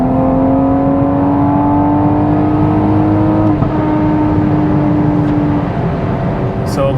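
An MK5 Supra with a tuned xHP transmission accelerates in fourth gear with stability control off, giving a steady, loud engine drone whose pitch climbs slowly before a brief change near the end.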